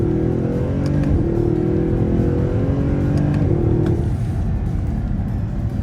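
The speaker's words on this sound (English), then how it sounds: "For a stock exhaust, the car sounds great, especially because it's right behind you." Stock-exhaust Audi R8 V8 engine revving loud and close from inside the low-slung car, a steady droning rumble with rising and falling pitch sweeps through the whole stretch.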